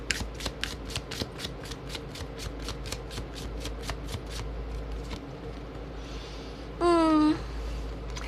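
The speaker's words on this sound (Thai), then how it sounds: "แม่หมอจะเปิดไพ่อีกใบหนึ่งให้นะคะ" Tarot cards being shuffled in a steady run of quick riffling flicks, then a card drawn and laid down, close and clear, followed by a brief higher scraping slide of the cards.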